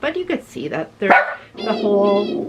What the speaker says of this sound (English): I apologize about my dog barking.